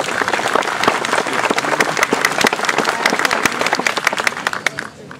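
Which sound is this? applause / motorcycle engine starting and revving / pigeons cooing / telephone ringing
applause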